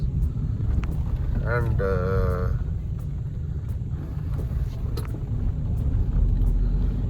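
Maruti Ertiga VXI petrol car, about seven years old with around 80,000 km, driving along with a steady low engine and road rumble inside the cabin. Someone speaks briefly over it.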